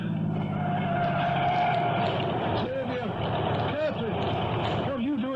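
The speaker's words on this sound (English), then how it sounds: "Oh, there's a car coming." In a radio drama sound effect, a car approaches along a road at night, its engine a steady rumble that swells gradually, with outdoor ambience and brief scuffling sounds layered over it.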